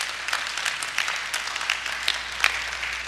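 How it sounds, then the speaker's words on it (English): A church congregation claps together during a sermon, a fairly dense run of hand claps with a few sharper individual claps standing out, steady and moderately loud. "Why don't we give God a clap offering for that?"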